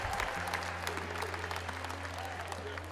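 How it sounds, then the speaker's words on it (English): A large crowd at a Trump rally claps and cheers continuously, with a low steady hum underneath, heard from some distance and fairly faint. "Sheriff Joe might be the guy that gets the most applause in this place, I think."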